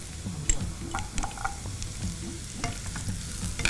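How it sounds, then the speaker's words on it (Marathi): Chopped carrots tipped into a pan of sautéed onions, stirred with a spoon and frying with a soft sizzle, scattered scraping clinks over a low steady crackle, no voices. "यात आपण आधी गाजर टाकणार आहोत"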